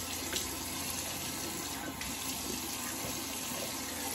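Warm tap water runs steadily into a bathroom sink as a face is wetted before a shave, a close, even hiss and splash that continues without a break, with no talking.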